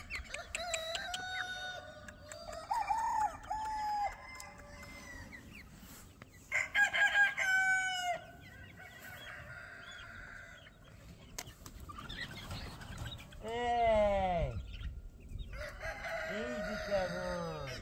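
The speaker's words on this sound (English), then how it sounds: "Very pretty rooster though." A slate-legged rooster on a homestead crows with a rising-falling call and clucks repeatedly among other fowl, close by and moderately loud in an outdoor yard.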